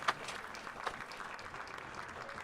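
Faint, distant applause from the audience at an Austin hackathon for the announced finalist teams, a soft scattered patter with a couple of sharper claps near the start.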